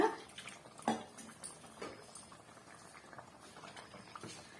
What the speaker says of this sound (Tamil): இப்போ இது ஒரு மூணு நிமிஷம் வந்து நல்லா கொதிச்சு வரட்டும்